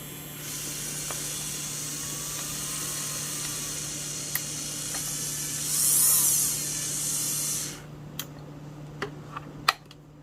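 A Melodysusie SR3-Jade electric nail drill (e-file) running at speed 15, giving a steady high-pitched whine with a low motor hum beneath, a louder swell midway, then it cuts off, followed by a few faint clicks.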